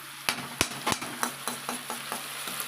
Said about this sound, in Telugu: మొత్తం పీసులన్నీ మసాలా అంతా ముక్కలకు పట్టేటట్టు కలుపుకోవాలండి